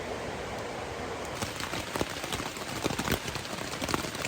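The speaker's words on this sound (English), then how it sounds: "it's raining pretty hard" Heavy rain pours steadily at a hiking shelter in the 100-mile wilderness on the Appalachian Trail, a dense continuous hiss with sharper drips and splashes growing busier partway through, close and loud, with no talk.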